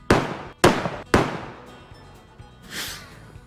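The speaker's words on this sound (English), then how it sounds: "And then there's the cannon." A cannon fires three sharp booming blasts in quick succession, about half a second apart, each decaying into a lingering rumble, followed by a softer hiss or whoosh near the end; no voices.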